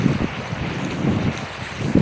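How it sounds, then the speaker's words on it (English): Wind blows steadily outdoors beside a lake, a continuous low rumble of gusts buffeting the microphone with swells at the start, middle and end, and no talking. "a little windy"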